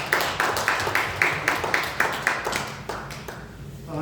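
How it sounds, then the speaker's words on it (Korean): A church congregation claps together in celebration, a steady rhythmic beat of about ten even claps, fairly close, fading out toward the end, with no one speaking. "우리 박수로 축하하고"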